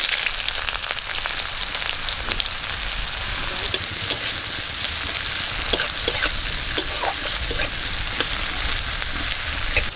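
Onion sizzles loudly in hot mustard oil in a wok with cardamom, cinnamon and cloves, a steady close frying hiss with occasional spatula scrapes and stirring clicks.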